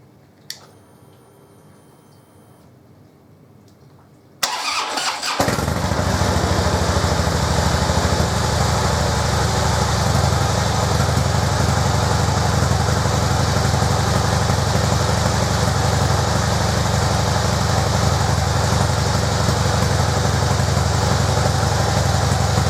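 After a quiet start with a click, a 2013 Harley-Davidson FLD Switchback motorcycle engine cranks and roars to life, then idles loudly and steadily for the rest of the time.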